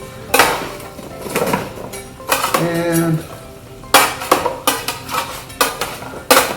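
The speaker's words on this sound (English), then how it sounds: "I'm gonna add the mirepoix directly into the pan and kind of mix those around together" Mirepoix is mixed with tomato paste in a pan, with loud close scraping and clanking of a utensil against the pan in irregular bursts, some brief sizzling, and occasional short pauses between strokes.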